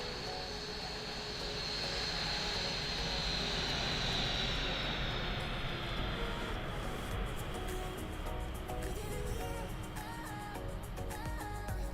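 Skymark jet airliner in Microsoft Flight Simulator, its engines spooling up to a steady loud roar with a rising whine that holds, then settles into a lower drone alongside faint tonal beeps.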